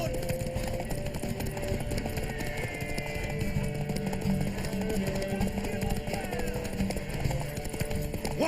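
Rapid rhythmic hoofbeats of a galloping horse in The Witcher 3, mixed with game sound effects and music, with voices speaking over the action.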